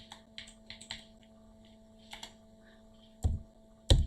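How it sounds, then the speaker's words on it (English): Keys struck on a computer keyboard while Python code is typed into a blank file, heard as sparse, quiet clicks in short bursts over a low steady mains hum, with two louder thumps near the end. "So here I am going to type"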